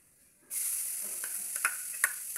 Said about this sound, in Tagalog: Igisa ng mabuti.